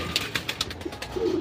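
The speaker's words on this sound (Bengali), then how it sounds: "অরিজিনাল আর্মি কবুতর নিয়ে আসলাম, নর এবং মাদি উভয় কবুতরই মাশাল্লাহ পিক সাইজ" A pair of army pigeons, one male and one female, coo at close range in Keraniganj, Dhaka. Short bright notes repeat at first, then a low rolling coo follows, with no voices.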